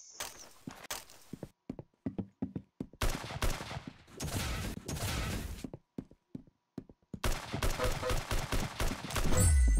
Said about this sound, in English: I was just shooting into the smoke